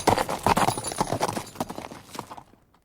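Horse hooves clip-clop steadily in an old-time radio adventure drama, a rapid run of close, distinct hoofbeats that gradually fade away into silence.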